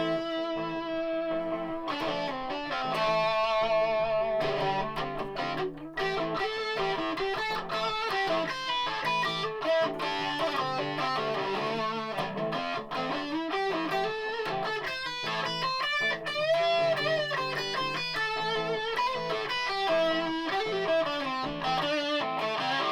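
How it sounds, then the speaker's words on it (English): Antoria goldtop Les Paul played on the bridge pickup through a Rat distortion pedal into an Orange TH30 amp with reverb off, a continuous loud distorted riff of chords and single notes, no voices. "Using the orange TH30 amp, turn off the reverb, on with the rat pedal, bridge pickup."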